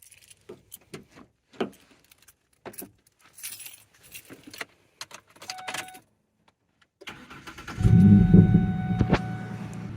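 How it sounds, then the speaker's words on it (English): Keys jangle and click for several seconds before a pickup truck's engine cranks and catches, settling into a loud, close idle rumble with no talk over it. "let me go ahead and start the truck up and turn the wheel all the way left and right"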